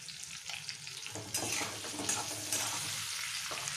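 Potatoes and carrots hit a pan of hot oil, where a quiet sizzle swells suddenly into a brighter, louder crackle, and stirring carries on through it.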